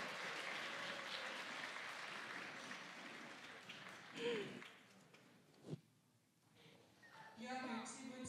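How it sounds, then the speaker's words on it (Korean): Applause in a church during a Christmas service welcoming young children, a wash of crowd clapping that fades out partway through, with voices speaking and rising over it. "우리 힘찬 박수로 맞아볼게요."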